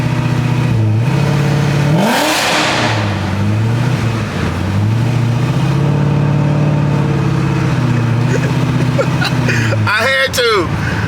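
A modified Chevrolet C6 Corvette with a sport exhaust, driving under an overpass. The V8 revs loud and close, rising and falling in pitch several times as it echoes, ending in a sharp final burst.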